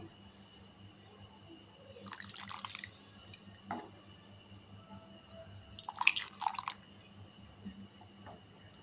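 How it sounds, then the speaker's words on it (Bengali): Milk ladled from one pot into a separate pot for a bread sweet, two short bursts of pouring and splashing with a soft clink between, quiet and close over a faint hum. "এই একটা আলাদা পাত্র নিয়েছি, তার মধ্যে তুলে নেব"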